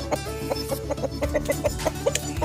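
A black-bone breed young rooster weighing nearly four kilograms clucks repeatedly in a quick, close, loud series of short clucks over a farmyard background.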